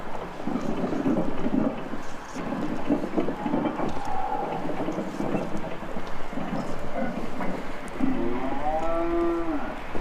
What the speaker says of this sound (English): There's a cow in there,